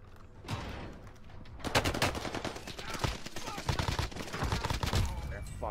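Rapid, dense bursts of automatic gunfire from the video game Call of Duty Warzone on Rebirth Island, sharp and loud throughout, with faint voices underneath.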